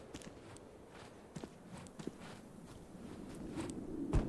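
Player's footsteps in the survival game MISERY, soft repeated steps at an irregular walking pace over a low ambient hum, faint and somewhat distant-sounding.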